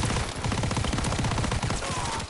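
A PPSh submachine gun in the Call of Duty WW2 video game fires one unbroken rapid burst of sharp, close shots lasting a couple of seconds, loud and without talk.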